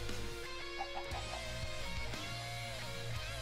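Chicken in a video game clucking in short bursts over a steady backdrop of game music, with no voices.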